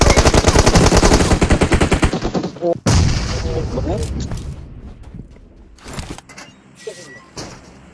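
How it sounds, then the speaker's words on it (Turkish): Rapid automatic gunfire in the PUBG Mobile battle game, loud sustained bursts for about two seconds, then further shots and clatter while voices talk over the game. "o kadar vuruyorum son mermi tutturamıyorum ya"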